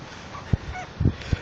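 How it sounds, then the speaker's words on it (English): Seagulls calling while being fed by hand, a few short, harsh squawks spaced irregularly over a soft outdoor background, moderately close and fairly faint. "That's how you get seagulls."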